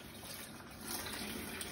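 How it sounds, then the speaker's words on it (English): Water from cooked egg noodles pours out at a kitchen sink, a steady rushing gush of liquid that swells slightly partway through, with no talking. "I'm going to go to the sink, drain off any of the water"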